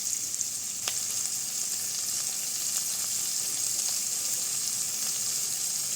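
Carrots sizzle and fry steadily in oil in a pan with salt added, a dense constant hiss at moderate level, broken by one sharp clink near the start and faint stirring.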